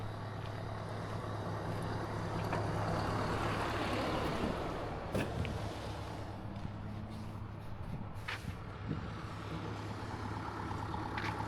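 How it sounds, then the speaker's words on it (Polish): An excavator is left idling on a muddy construction site beside a sidewalk, giving a steady, continuous low engine rumble with some wind noise and no voices. "A ta koparka to zostawiona jest na silniku pracującym."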